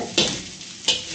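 Hissing sizzle from rice frying in a pan over a gas flame, with two sharp scraping stirs spaced about a second apart, close by.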